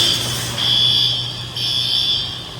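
A storage unit alarm sounds continuously, a loud steady electronic tone pulsing in long swells over a constant background hum, with no talk.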